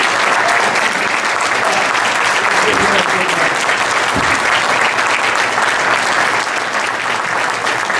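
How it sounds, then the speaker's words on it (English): Sustained, dense applause from a large audience at a gala dinner honoring honorees and students, steady loud clapping filling the whole stretch without pause. "Let's give them a big hand."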